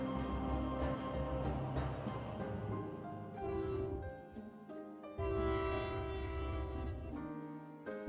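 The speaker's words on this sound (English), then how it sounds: "There be a train." A train passes outside, faint and distant, its rumble and horn-like tones muffled under other indoor sound.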